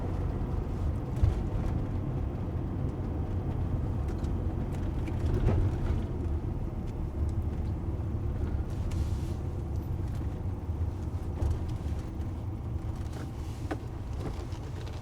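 Inside a car driving on British roads, a low, steady road and engine rumble runs the whole time at a modest level, with small bumps and clicks and no talking.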